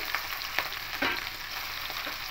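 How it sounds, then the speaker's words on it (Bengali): Prawns fry lightly in a little hot mustard oil in a wok, giving a steady, close sizzle with a few sharper spattering bursts and light stirring scrapes, no voices. "এবার চিংড়ি মাছগুলোকে একটু হালকা করে ভেজে নেব।"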